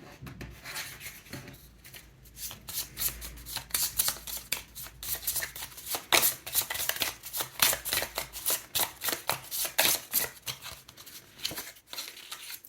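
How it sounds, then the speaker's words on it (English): Astrology cards shuffled and pulled by hand: a close, quiet run of rapid papery riffles and flicks that quicken and thicken toward the middle before trailing off. "Now I'll pull some astrology cards to get some more insights into your reading."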